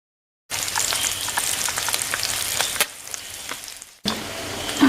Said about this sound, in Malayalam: ഇനി നമ്മുടെ ഇല്ലേ ഉണക്കമീൻ ഏതാണ്ട് വേവായിട്ടുണ്ട് വറവില്